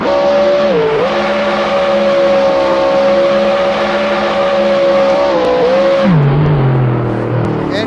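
A Mercedes-AMG C63 pulls hard at full throttle in fourth gear, its loud engine droning steadily higher in pitch, then dropping sharply as the revs fall near the end.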